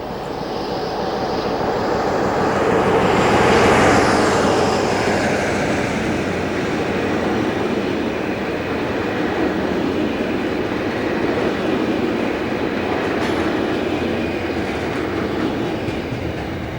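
Class 47 diesel locomotive 47205 hauling a Leeds to Thamesport Freightliner container train on 1990s British Rail, a loud sustained roar and rumble of the engine and wagons building to a peak early on, then a long steady clatter of passing freight cars.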